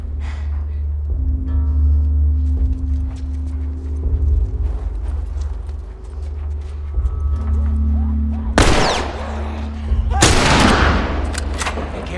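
Two heavy gunshots boom in The Last of Us Remastered, loud and close, over a low droning ambience and faint background clatter.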